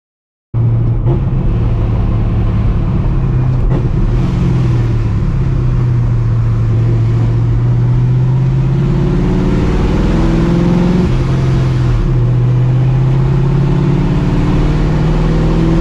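A 4.6-litre two-valve V8 in a Ford Mustang idles and runs close by, a loud, steady low rumble with slight wavering in pitch, starting abruptly and continuing without talk.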